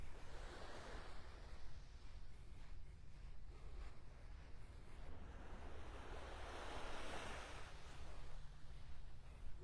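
Ocean surf rolls onto a beach in North Naples, Florida, a steady wash of breaking waves that swells louder toward the end, mixed with wind buffeting the microphone and no talking.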